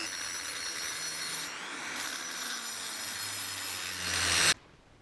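A steady high-pitched grinding whine from a power tool porting a Honda Astrea 100cc cylinder head runs continuously, then cuts off abruptly near the end.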